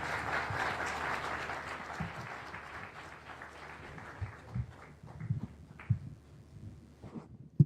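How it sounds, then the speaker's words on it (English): An audience at a Google anniversary event in Kenya applauds after a presidential speech. The dense, sustained clapping is loud at first and then thins out into scattered individual claps. "Why don't we give him another hearty clap?"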